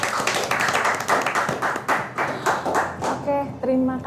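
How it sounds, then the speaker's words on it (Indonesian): An audience at a talk show claps hands in a lively, close, uneven burst of sharp claps, giving way to a voice as it fades near the end. "Tepuk tangan buat Andi."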